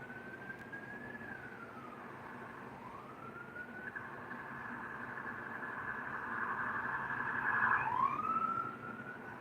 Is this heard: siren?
yes